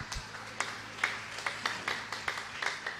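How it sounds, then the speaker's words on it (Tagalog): A church congregation at an evening preaching service claps in a sparse, uneven rhythm, with several distinct loud claps spaced roughly every half second rather than a dense ovation. "Lahat tayo pumalakpak na malakas."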